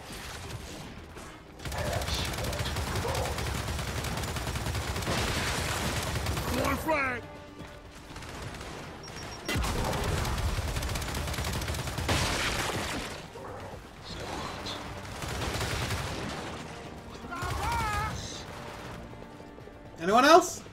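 A mounted turret fires in Gears 5 in several sustained, loud bursts lasting a few seconds each. Quieter gaps with scattered battle noise fall between them, and a sharp hit comes at the very end.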